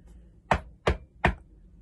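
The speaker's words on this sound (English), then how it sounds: "It was a loud, echoing noise, as if someone was knocking on a metal door and expecting an answer." Three sharp, loud knocks on a metal door come in quick, evenly spaced succession, with nothing else around them.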